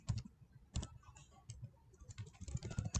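Brisk bursts of typing on a computer keyboard, close and quiet, with quick clusters of key clicks separated by short pauses as notes are entered.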